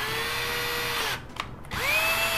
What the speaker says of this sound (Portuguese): Vocês estão vendo essa pecinha aqui que transforma a minha parafusadeira em uma furadeira?